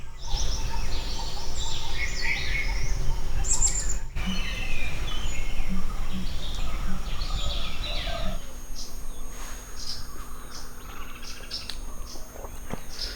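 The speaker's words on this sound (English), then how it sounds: "I was just woken by the sound of the birds that I hear around me." Many birds chirp and call continuously outdoors at Devaramane Betta near Mudigere, India, some nearer and some farther off, with a faint insect-like buzz and steady background noise.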